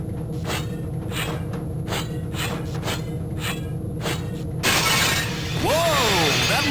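Glass shattering in the Gunman Chronicles video game, a sudden loud crash and spray of breaking glass after a stretch of rhythmic mechanical pulsing, followed by high sliding tones.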